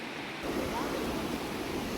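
Low-flow water at Siruvani Waterfalls near Coimbatore rushes steadily as a broad, continuous wash mixed with wind, fairly faint and distant, with no clear talk.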